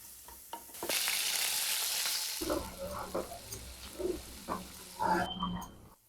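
Ground coconut fries in hot oil for Malvani tomato saar: a loud rush of sizzling first, then softer frying broken by a series of close stirring scrapes and knocks.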